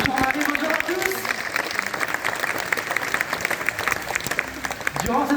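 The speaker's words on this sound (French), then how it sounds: "je vous demande de lui faire un tonnerre d'applaudissements" A zoo audience at the Beauval sea lion show gives a steady, dense round of applause that fills the whole stretch, with a voice talking over it at the start and end.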